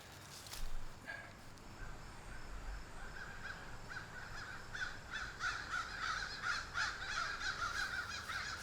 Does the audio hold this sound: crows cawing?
yes